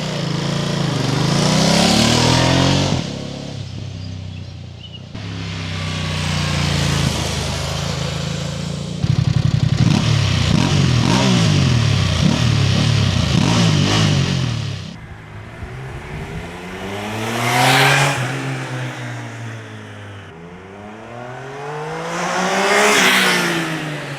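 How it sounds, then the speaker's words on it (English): Engine sounds from a Triumph Tiger Sport 800 and a Ducati Multistrada V2, Euro 5+ motorcycles, heard in turn: loud idling and repeated revving with rising and falling pitch sweeps, each burst separated by short pauses, close to the bikes. "speaking of weaknesses, let's hear the sounds"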